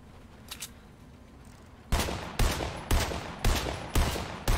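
Gunfire in the Fortnite video game: after a quiet stretch, a series of six loud, close shots rings out at an even, roughly half-second rhythm, each with a sharp crack and short decay, with no talk.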